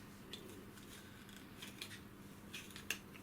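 Scissor tips snipping into hard cardboard to start a hole for a craft tassel, a series of faint, irregular crisp clicks and crunches close up.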